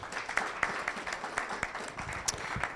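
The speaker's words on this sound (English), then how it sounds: "A round of applause for GIZ for me" Audience applause at a panel discussion in Ghana, a moderate, even patter of many hands clapping with sharper individual claps scattered through, no speech over it.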